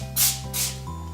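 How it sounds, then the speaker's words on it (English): Cooking oil sprays onto a foil-covered baking sheet in two short, sharp hissing bursts, close and loud over a faint low hum. "I'm just going to spray it so our fries don't get stuck"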